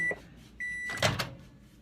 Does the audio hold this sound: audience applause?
no